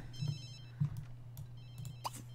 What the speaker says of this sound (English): Answer your damn phone.